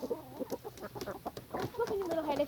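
A frizzle chicken clucks close by in a series of short, uneven, throaty calls with small pauses between them, fairly quiet and close, with a few squawkier notes toward the end.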